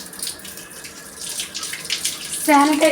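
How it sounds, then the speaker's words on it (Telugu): Water runs steadily from a tap for hand washing, a soft continuous hiss that grows louder and splashier near the end, with no talking. "చేతులను ట్యాప్ దగ్గర వాటర్లో తడపాలి"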